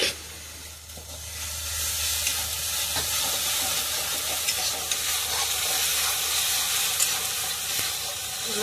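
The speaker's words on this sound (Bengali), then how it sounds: "মশলারে ভালো রে কষায় নেবে।" Okra, potatoes and spices sautéed and stirred in a pan for Hindustani bhindi, giving a dense, continuous sizzle with faint scraping throughout and no voices.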